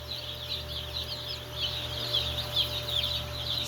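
Cornish cross chicks in a heated brooder, a busy flock cheeping and clucking continuously over a steady electrical hum, close and moderately loud, with no talking.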